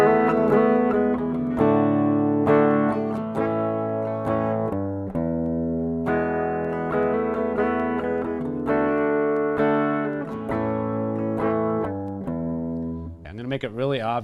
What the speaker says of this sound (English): I'll play the chord progression that's in my mind first